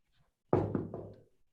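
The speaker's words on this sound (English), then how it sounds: "why don't you and that buyer go out there and knock on some doors?" Knocking on the front door of a house: a few firm raps close by, a sharp first hit followed by two quicker knocks, with no talking.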